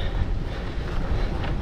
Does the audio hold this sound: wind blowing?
yes